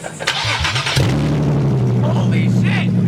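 Nissan 370Z with open headers and test pipes, its engine catching and then holding a loud steady drone that builds under throttle, close by, with people shouting over it.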